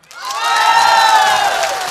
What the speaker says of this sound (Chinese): 5号的，掌声鼓励一下。